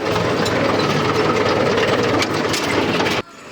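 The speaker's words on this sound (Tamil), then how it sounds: "டிராக்டர் எடுத்துகிட்டு வந்தாச்சு." A tractor engine runs steadily with a loud, continuous low drone on a farm field in Pollachi, then cuts off sharply near the end.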